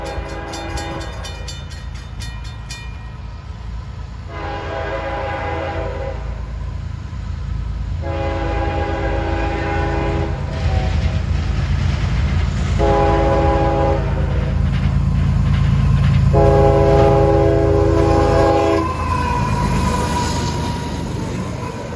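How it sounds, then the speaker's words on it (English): A locomotive fitted with a BNSF first-generation K5HL horn sounds a series of long, loud chord blasts, roughly four or five in a row, over the steady rumble of a passing train. "Like, that's actually a good sounding horn."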